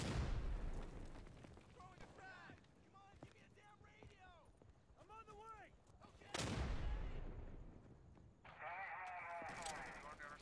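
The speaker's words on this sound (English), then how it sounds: "Throwing a frag!" Frag grenade blast and gunfire in the WWII shooter Day of Infamy: a sharp boom lands midway, with scattered shots and a later burst, under shouted voices and radio chatter.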